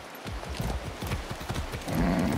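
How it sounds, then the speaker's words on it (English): Horse hooves clip-clopping in the video game Far Cry 6, a quick rhythmic run of close, loud hoof thuds across the whole clip, with no speech. "That's a good horse."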